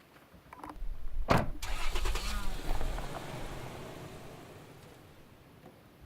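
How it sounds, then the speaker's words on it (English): Truck engines starting up and pulling away, with a door thud and a rising engine roar that swells, then fades as the vehicle drives off into the distance. "let's get the gear, jump in the trucks and head off"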